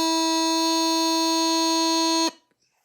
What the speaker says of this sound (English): And E sounds like this.